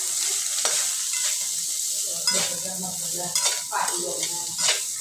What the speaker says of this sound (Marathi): आणि थोडीशी कोथिंबीर घालून घेऊ आणि आता व्यवस्थित भाजून घेऊ कांदा